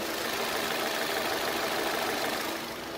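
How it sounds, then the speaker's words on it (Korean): A low-mileage Chevrolet Lacetti Premiere with a 1.6-litre (1600cc) four-cylinder engine idles in a steady, even hum with no knocking or shaking, heard close and alone for about three seconds. "엔진 소음 들려드리면은"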